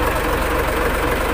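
An engine with a new fuel filter and fuel hose, fitted after a fuel leak and hard starting, runs at a steady close idle with an even, unbroken drone, and a voice talks over it.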